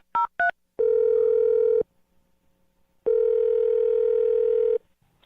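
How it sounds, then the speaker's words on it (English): Two quick keypad beeps while dialing a phone number, then two long steady telephone ringback tones separated by a short pause, loud and clear with no talking. "We're gonna call Kate and dial her phone number right now."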